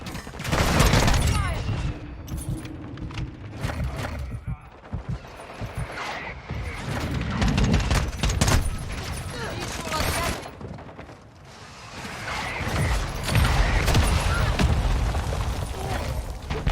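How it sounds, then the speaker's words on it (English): Mortar strike explosions boom amid rapid automatic gunfire in a Call of Duty: Modern Warfare II multiplayer match, loud and continuous over about sixteen seconds, with heavy low-end blasts swelling twice and players talking throughout. "Our mortar strike is inbound."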